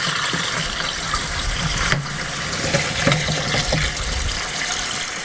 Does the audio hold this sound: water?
yes